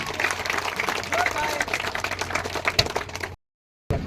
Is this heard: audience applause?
yes